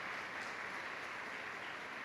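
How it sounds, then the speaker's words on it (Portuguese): A church congregation claps together in a steady, even wash of applause, fairly soft and distant, with no voices rising above it. "Dá uma salva de palmas a Jesus pela vida deles."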